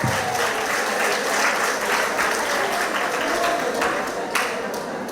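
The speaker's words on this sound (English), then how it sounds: "Give us a round of applause." Sustained applause from the audience at a TTARP Purple Diamonds monthly meeting in a Pleasantville community hall, many hands clapping in a thick, steady roar that tapers slightly toward the end.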